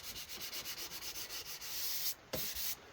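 Sanding the wooden body of an Ibanez Roadstar guitar, with quick rhythmic back-and-forth rubbing strokes that are close and fairly quiet, ending in a couple of longer scrapes.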